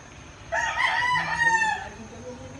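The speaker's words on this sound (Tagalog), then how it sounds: "may manukan din pala dito sa kabila mga kalapatids. Dami din manok." A rooster crows once, loud and drawn out, with faint clucking and quiet background ambience.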